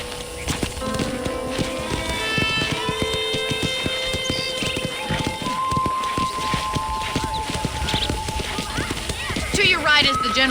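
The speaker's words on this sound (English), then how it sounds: "I picked out a fine horse for you." Horse hooves clip-clop at a steady walking pace through a ranch in the video game Red Dead Redemption on PC, with a whinny, music and a voice talking over the rhythmic clopping.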